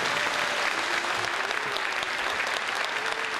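Applause from a symphony orchestra concert audience in Seoul, a dense, steady wash of many hands clapping that fills the whole stretch at an even level, with no voices over it.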